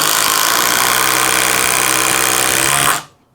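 A Milwaukee impact driver runs continuously and loudly as it drives a 5-inch single drive fastener, hammering steadily for about three seconds before stopping abruptly.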